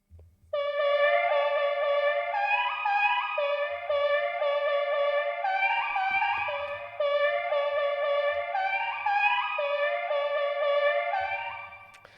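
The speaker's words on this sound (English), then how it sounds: "It's just a sample being triggered a number of times in quick succession with a lot of echo" A synthesized sample fires repeatedly in quick succession, smeared by heavy echo and delay into a continuous shimmering, pulsing tonal wash that runs steadily for about eleven seconds with a low thumping pulse beneath at intervals.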